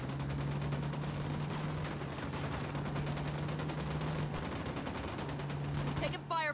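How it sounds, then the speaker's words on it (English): Cartel gunmen's gunfire in Ghost Recon Wildlands, a dense rapid rattle of automatic shots sustained throughout over a low steady hum, with a voice breaking in at the very end. "Taking fire from cartel sicarios."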